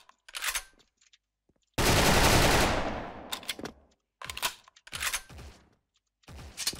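Gunfire in the online shooter Special Force: short, loud automatic bursts separated by silent gaps, with one long, dense roaring burst that fades away, and no talking over it.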